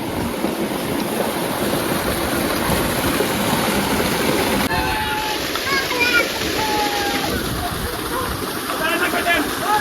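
Water pouring and splashing steadily into a farm swimming pool, a loud continuous rushing gush, with birds chirping faintly in the background.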